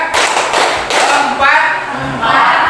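Classroom of students clapping in unison during a counting clap game, a few sharp group claps in a steady rhythm mixed with voices counting aloud.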